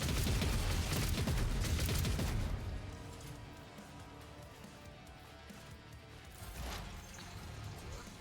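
A dense burst of rapid gunfire and crashing in the video game Rogue Trader fills the first few seconds, then drops to a lower rumble with scattered shots and a brief flare later.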